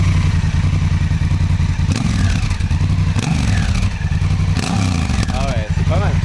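A Honda Africa Twin motorcycle engine runs loud and close, its deep idle broken by several sharp revs and throttle blips, with people talking over it.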